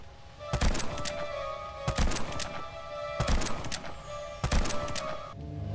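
A battle rifle is hip-fired in the Puppet Master video game, letting off four sharp, rapid bursts of gunfire spaced about a second apart, loud and close with short pauses between.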